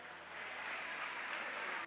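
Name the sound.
applause from the Popular Party benches in parliament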